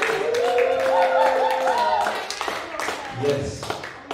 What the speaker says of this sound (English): So can we give a clap for our brother Crash Time?